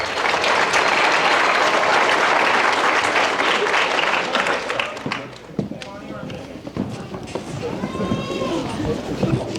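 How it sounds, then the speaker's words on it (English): Sustained, loud applause fills a high school athletic banquet hall following baseball all-district awards, then thins out midway as a voice speaks over the fading claps. "Let's give these guys one more round of applause."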